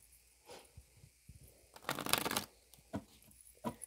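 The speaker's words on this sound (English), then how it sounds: "Let's get out the Archangel cards." Archangel oracle cards being shuffled close by, with a few soft riffles building to one dense, louder shuffling burst midway, then scattered card flicks. No voices.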